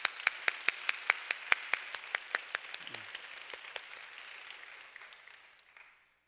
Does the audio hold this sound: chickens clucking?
no